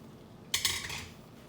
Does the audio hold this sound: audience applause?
no